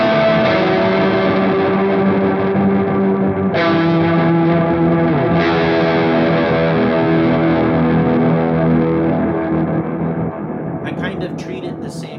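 Electric guitar through a Walrus Audio Fable granular pedal on program 3, paired with a drive: a dense, fuzzy, sustained wash of layered notes with shimmering grainy textures and long smeared tails. It plays loud and continuous for about twelve seconds.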